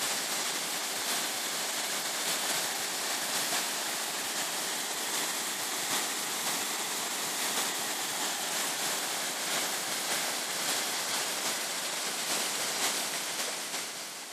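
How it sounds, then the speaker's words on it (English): Waterfall at Mill Corner on a countryside walk between Petersfield and Liss, a constant broadband rush of falling water, steady and fairly loud with no voices. "The waterfall at Mill Corner."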